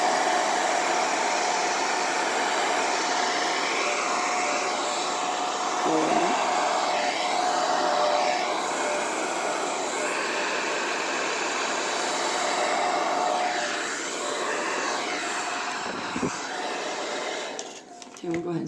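A hair dryer blows on an acrylic paint pour, a loud steady roar with a few brief bumps and a voice talking under it, then a drop as it shuts off at the end.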